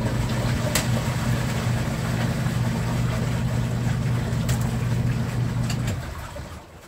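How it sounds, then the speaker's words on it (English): A portable washer's spin dryer whirs a rinse load with a steady, loud motor hum that holds, then winds down near the end. "we'll do the rinse spin in the spinner"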